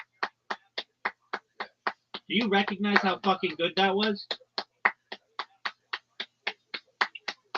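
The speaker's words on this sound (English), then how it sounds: "do you hear me clapping?" A single person claps hands in a steady, evenly spaced rhythm, sharp close claps that pause briefly while someone talks, then resume at the same pace.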